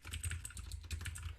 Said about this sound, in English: Do not look at what I'm typing in console.